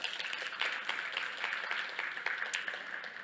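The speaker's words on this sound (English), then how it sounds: "Please give them a nice round of applause." A conference audience applauds after a talk, a dense wash of many hands clapping that stays steady from start to finish, filling a hall without any speech over it.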